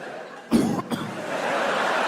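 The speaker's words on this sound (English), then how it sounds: "Just coughing." A single short cough bursts out loudly amid a comedy stand-up set, followed by a brief catch of breath, with crowd murmur and room noise continuing behind it.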